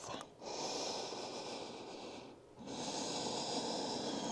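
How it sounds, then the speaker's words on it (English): A slow, deep breath is drawn in and let out during a yoga forward fold, close and clearly audible, with a short pause between the inhale and the exhale and no talking. "Take one more breath."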